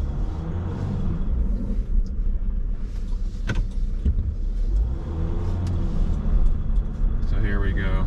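Steady low engine rumble and road noise inside a 2021 Jeep Wrangler Unlimited Rubicon ecoDiesel driving a bumpy, curving road, with occasional knocks and rattles from the bumps and a voice talking over it.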